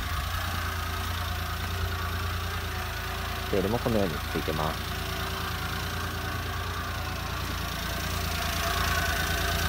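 A Honda Acty Attack with a four-speed manual gearbox idles steadily and close by, its low, even hum running throughout while a person talks briefly partway through.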